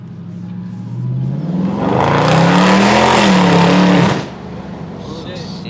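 A 2022 Dodge Charger Scat Pack Widebody with its mid muffler deleted pulls hard down a street, the engine note climbing into a loud, steady roar for about two seconds before easing back to a lower hum.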